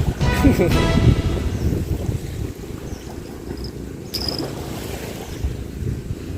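Strong wind blows over the sea during boat fishing, a steady low roar of gusts and buffeting with a faint voice heard briefly at the start and a short clatter near the end.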